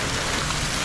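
Water droplets from a fountain at an aquarium in Ranchi patter steadily in a dense, hissing spray, close and continuous like rain on a surface.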